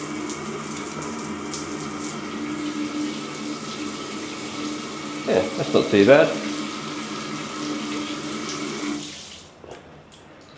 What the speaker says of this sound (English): And then we've got a shower. Just a normal sort of shower.